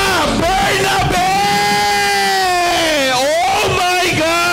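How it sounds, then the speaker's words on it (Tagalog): Crowd cheering and yelling at a child's fifth birthday celebration in a banquet hall, loud sustained whoops and hollers from many voices swelling and dipping across several seconds. "Parinig naman na may kasamang hiyawan for Miss"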